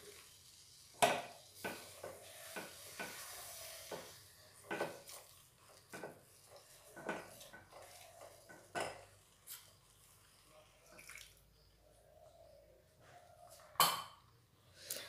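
Semolina dough being mixed in a bowl for sujir langcha, a Bengali sweet: a run of quiet scraping strokes and light clinks of a utensil against the bowl, some sharper knocks among them, with no talk.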